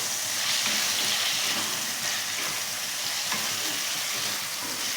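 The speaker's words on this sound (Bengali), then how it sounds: "এবার এটা দিয়ে দিচ্ছি কড়ার মধ্যে, এটাকে ভালো করে ভাজবো।" Marinated chicken frying in a kadai, a dense, even sizzle that holds steady and close throughout with no breaks.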